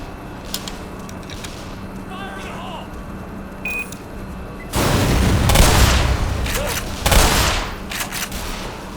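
Gunfire aimed at Marines in the video game Black Mesa: a quiet stretch with small electronic blips gives way to two loud, dense bursts of rapid shots and booms.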